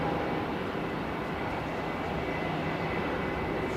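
An airplane taxies on the ground at Melbourne Airport, a steady continuous engine roar with no distinct events, moderately loud and unbroken throughout.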